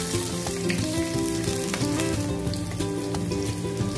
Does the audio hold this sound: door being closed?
no